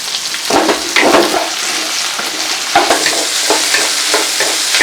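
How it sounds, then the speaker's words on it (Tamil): Shallots and garlic sauté and sizzle in hot oil in a home kitchen while being cooking a Tamil-style okra curry, with steady loud frying hiss and repeated scraping stirs of a spoon throughout. "நம்ம அடுத்தது பூண்டு சேர்த்து நல்லா வதக்கி எடுத்துக்கலாம்"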